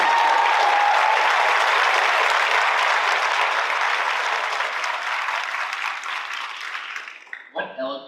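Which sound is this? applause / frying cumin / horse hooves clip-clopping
applause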